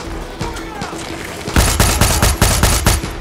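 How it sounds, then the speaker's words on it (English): Rapid automatic gunfire with heavy recoil in Far Cry 6: loud, close, evenly spaced shots start partway through and continue to the end, following a quieter stretch of scattered game noise and talk. "इतना खतरनाक recoil है gun का"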